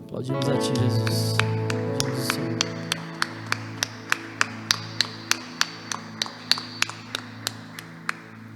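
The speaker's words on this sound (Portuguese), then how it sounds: "Aplaudimos a ti, Jesus." Applause for Jesus during a Portuguese-language gospel sermon: after a sustained musical chord fades, a steady even run of single claps ticks along at a regular beat, fairly close and clear.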